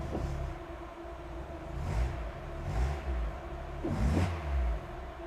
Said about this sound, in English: I'm going to give the throttle a stab.